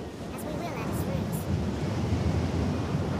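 Gusting wind roars steadily in the PC game Dragon's Dogma: Dark Arisen, a dense rushing noise that stays loud throughout.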